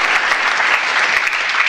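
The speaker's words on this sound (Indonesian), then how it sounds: "Berikan tepuk tangan bagi Allah kita." A church congregation claps together during a sermon, giving a dense, steady roar of applause that fills the whole moment at close range, loud and unbroken from start to finish.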